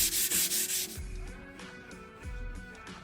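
Scratch-B-Gone is rubbed with the grain into scratches on the steel of a ZLINE range. Quiet, brisk back-and-forth rubbing strokes come close up, fast at first, then softer and slower.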